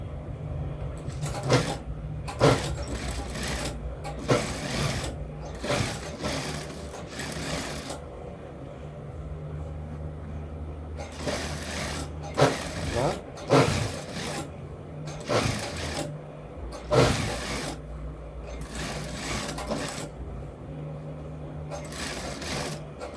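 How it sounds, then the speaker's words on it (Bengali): A sewing machine stitches a shirt sleeve in repeated bursts of fast, rattling running, each lasting a second or so and separated by short pauses. It is close and clear, with no talking. "এখন এটা ঘুরিয়ে আমরা এখানে চাপ সেলাই দেবো।"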